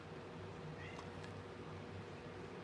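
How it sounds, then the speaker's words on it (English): A pet cat meows faintly in a home studio, short soft calls set against steady low electrical hum and room noise. "That's one of my cats, Khaleesi."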